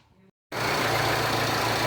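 A Jeep Renegade engine starts after a repair: a short faint sound, a brief gap of silence, then a steady, even idle hum, close and continuous.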